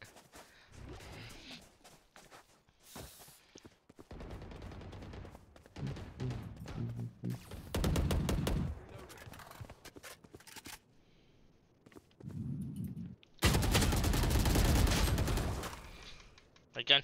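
Gunfire in the shooter game Valorant comes in loud, rattling bursts broken by short pauses, mixed with game sounds and players talking.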